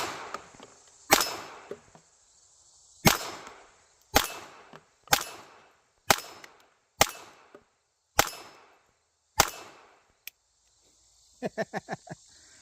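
Sharp, loud gunshots from a Taurus TX22 .22 pistol fired at a small target at 15 yards, eight single shots spaced roughly a second apart, then a quick burst of five fainter cracks at the end.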